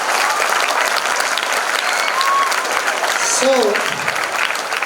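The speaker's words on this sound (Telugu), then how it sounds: "ఒకసారి గట్టిగా చప్పట్లు కొట్టండి" An audience at a Jawahar Navodaya Vidyalaya school gathering in Medak gives loud, sustained applause for a teacher, a dense continuous clapping that fills the room, with a brief voice surfacing near the end.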